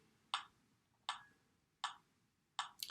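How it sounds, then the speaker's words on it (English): Metronome set to 80 beats per minute ticks four times at a steady pace, sharp clicks with quiet gaps between, fairly faint and alone. "Go ahead and set your metronome for 80 beats per minute."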